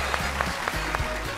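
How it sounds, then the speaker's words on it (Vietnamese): A studio audience claps to welcome a guest on a Vietnamese talk show, the applause blending under a pulsing backing track with deep bass notes and regular beats. "Hãy dành một tràng pháo tay để cùng chào đón chính cô gái độc thân và chị dễ của chúng ta."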